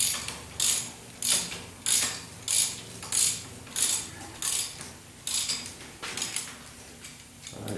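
Hand ratchet loosening rear shock bolts on a 1976 Corvette, a close, steady series of about a dozen rhythmic clicking pulls, evenly spaced, with no talking.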